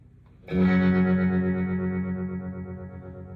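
An electric guitar played through a pedal used as a tremolo strikes one ringing chord that sustains and slowly fades, the effected tone close and alone with no talk.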